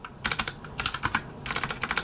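Rapid keystrokes on a computer keyboard come in three dense bursts of clicky typing, close and fairly loud, with short pauses between them and no voices.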